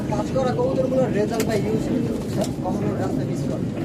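Pigeons in a loft coo softly in the background, a few low murmuring calls under steady talking nearby.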